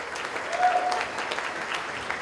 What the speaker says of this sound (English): let's give a round of applause for Ian there